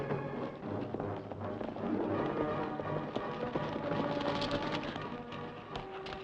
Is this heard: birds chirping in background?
no